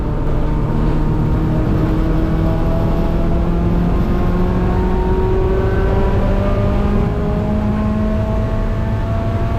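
A race car engine roaring at GingerMan Raceway, loud and close throughout with steadily climbing pitch under acceleration, no talk.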